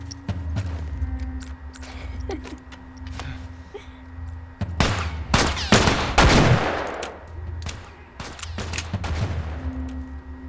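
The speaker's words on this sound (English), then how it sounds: "I like shoot the gun, I see the bullet hit, and then I hear the shot" Gunfire in The Last of Us video game: a few sharp shots and a dense burst of rapid fire, loud and close, with quieter stretches between them.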